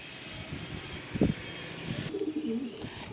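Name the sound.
female pigeon cooing in a loft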